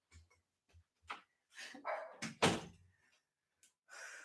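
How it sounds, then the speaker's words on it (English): A door closes indoors during a live lash tech talk stream, giving a few short thuds and a solid slam around the middle, with scattered knocks and rustling before and after and no speech. "let's close the door"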